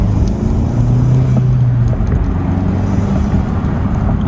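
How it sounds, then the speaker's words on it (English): Intake of a 10th-generation Honda Civic while driving: a steady, loud low drone with a slightly rising tone midway, cabin road rumble underneath and no voices. "Now we can really focus on the intake sound, which I forgot how great this intake is."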